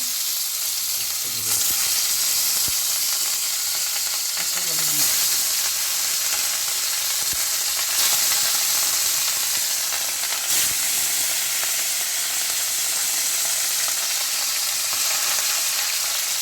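Bhetki fish frying in refined oil in a kadai over lowered heat gives a loud, steady, dense sizzle and hiss throughout, close up. Faint clatter is heard as the pieces are moved or turned, and no one speaks.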